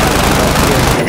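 Dense, continuous video-game gunfire fills the whole burst, loud and close, as if a sniper or automatic weapon is firing on the player, with a brief drop at the very end.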